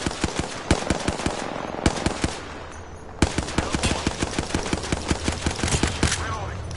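Rapid automatic gunfire in Apex Legends rattles in fast, sharp repeated bursts with a brief lull in the middle, steady and close, with occasional talk mixed in.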